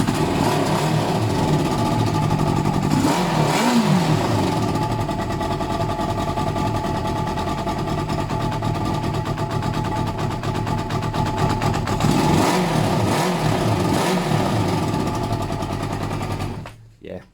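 A Kawasaki ZL600 motorcycle engine runs at a steady, close idle, rising twice in revs, then cuts out abruptly at the end.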